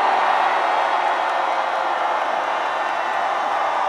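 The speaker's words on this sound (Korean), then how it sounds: "강력한 말씀 메시지 전해주신 우리 손현보 목사님과 윤상현 의원께 함성 5초간 발사!" A large crowd at an outdoor political prayer rally in Daejeon roars with sustained cheering and shouting, a dense, steady wall of voices held for several seconds without a break.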